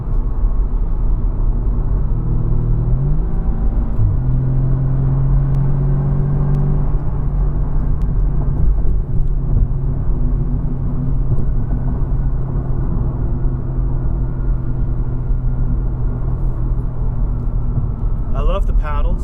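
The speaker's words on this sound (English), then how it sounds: "I'll just drown you out with some exhaust noise." Exhaust drone from a 2016 Audi S3 under way, a steady, fairly loud engine hum with road rumble that holds for the whole stretch, pitch shifting slightly as it drives.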